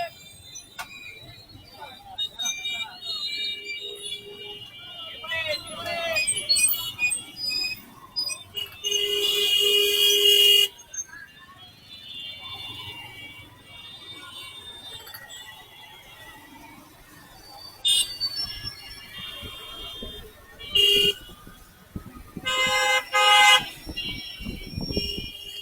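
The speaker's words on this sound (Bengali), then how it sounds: "ট্রাফিক মোড়, মজমপুর গেট।" Traffic at the Mojompur Gate junction by the railway crossing in Kushtia Sadar: several loud, sharp car horn blasts, some held for over a second, cut through a low rumble of passing vehicles and faint background voices.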